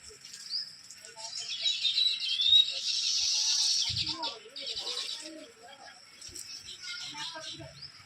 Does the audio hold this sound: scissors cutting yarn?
no